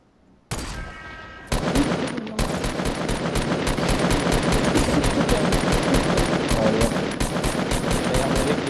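Rapid submachine gun fire in a first-person shooter video game, several long automatic bursts of sharp, loud shots in steady fast rhythm, close and dominant throughout.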